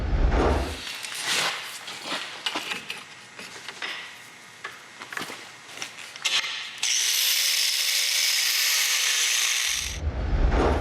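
A power tool cuts through a weld on the steering tube of a Studebaker pickup during a 360 Magnum swap. It rasps in uneven bursts, then settles into a steady, loud high-pitched whine for several seconds before stopping.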